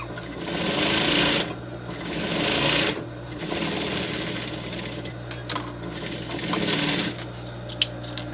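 Sewing machine running in long steady bursts as it stitches the seams of an A-line skirt, with brief pauses between runs and a few small clicks near the end; no talking.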